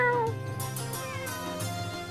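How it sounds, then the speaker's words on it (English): A cat meows in the Suikoden V video game, a few drawn-out, clear meows rising and falling over soft game music, close and alone with no talk. "And a kitty!"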